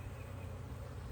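Bees at an open hive hum as a dense, steady, close buzz that stays even and continuous throughout, with no voices.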